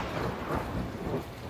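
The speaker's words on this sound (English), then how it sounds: "Lightning struck." Thunder rumbles low and heavy through a steady wash of rain in a short stormy burst, the broadband roar constant and close with no voices present.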